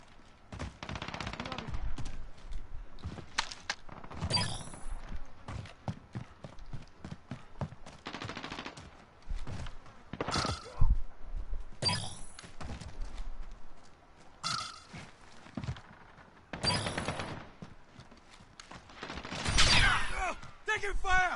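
Gunfire in the Call of Duty beta, scattered bursts of shots and impacts at varying distance, interleaved with game voices and effects.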